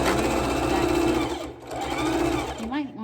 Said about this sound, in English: you want to make sure you're sewing through all the layers.